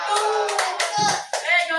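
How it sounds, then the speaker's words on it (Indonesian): Classroom students clapping together after a group activity, a few sharp bursts of hand claps mixed with loud children's voices calling out. "Diberi tepuk tangan"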